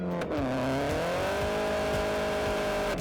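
A car fitted with budget Accelera PHI tyres is driven hard on North Yorkshire moorland roads, its engine revving up and then holding a strong, sustained drone close by.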